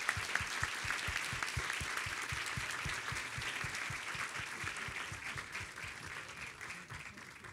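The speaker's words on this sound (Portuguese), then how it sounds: "Queria pedir uma salva de palmas aqui para o nosso pessoal." Audience applause at a conference award ceremony, sustained even clapping from a crowd in a hall, moderately distant and steady throughout, with a few faint voices underneath.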